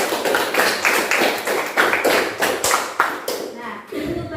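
Classroom of Indonesian madrasah students clapping for a classmate, a burst of close, uneven hand claps with scattered taps and shuffling that fades out near the end.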